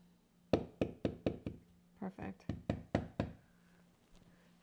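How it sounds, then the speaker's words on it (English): A plant milk maker being knocked to shake its dry pulp out, giving a quick series of about ten sharp, close knocks in two bursts, with a short spoken word in between. "Knock the pulp off onto there so they can see the pulp"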